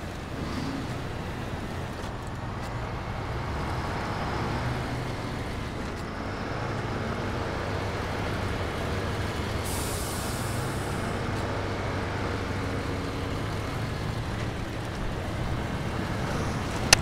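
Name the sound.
car driving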